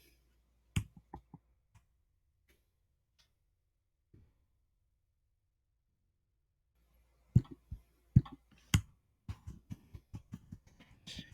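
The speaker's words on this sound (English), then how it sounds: "I'm using the arrow keys on my keyboard." Sharp, isolated key clicks from computer keyboard arrow keys, a few spaced taps, then a long quiet gap, then a quicker burst of presses near the end, faint and close.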